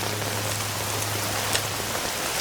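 Heavy rain pours down steadily and loudly on surfaces, a dense continuous hiss with scattered drop impacts and a low steady hum beneath, no talk.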